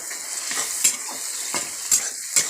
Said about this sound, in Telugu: టమాటాలు బాగా వేగుతున్నాయి.